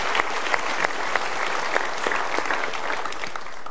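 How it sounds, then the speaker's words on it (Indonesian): A studio audience applauds in a continuous, dense wash of clapping with scattered sharper claps standing out, loud and close throughout. "kita berikan tepuk tangan dulu."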